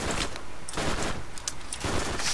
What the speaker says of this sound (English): that is an awesome machine gun